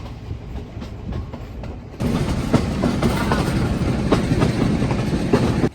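A passenger train riding through the hill country of Sri Lanka, near Nuwara Eliya, gives a steady close rumble with clickety-clack wheel beats that grow louder partway through, with no talking.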